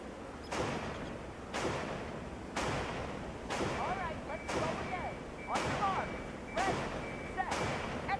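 Suppressed pistol headshot in the stealth game Hitman: six sharp, loud shots, about one per second, over a steady low hum with occasional faint whistling tones.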